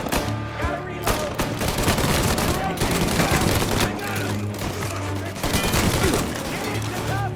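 Gunfire in the game Mafia: Definitive Edition: rapid bursts of close, loud shots and automatic fire rattle on for several seconds, with shouted voices over the shooting.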